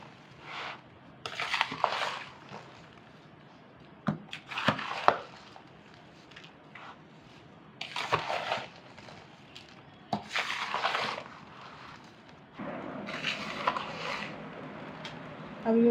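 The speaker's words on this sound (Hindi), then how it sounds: "अच्छी तरह इसको हम मिक्स करेंगे इसके अंदर।" Masala being mixed into fried lasoora (gunda berry) pickle, with bursts of close scraping, crunching and clattering of a spoon against a pot, separated by short quiet gaps, no talking.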